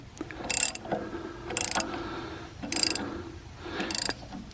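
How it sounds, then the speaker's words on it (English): A 22mm wrench ratchets in four short bursts while tightening a nut on the injector pump of a Case 580 backhoe with a Cummins 4-cylinder diesel, each burst a crisp metallic clicking separated by brief pauses. "It's a 22mm wrench, and you got to slightly tighten it up"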